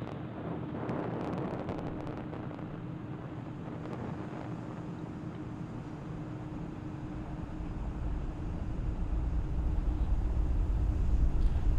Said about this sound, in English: And Falcon 9 has successfully lifted off from Launch Complex 39A, carrying our 53 Starlink satellites.